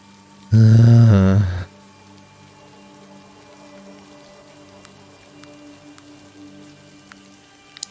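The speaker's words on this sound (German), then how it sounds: "Aber der Regen ist sehr atmosphärisch" Rain falls in the video game Blair Witch, a soft continuous patter of drops on surfaces. Early on, a loud groaning growl briefly rises over it.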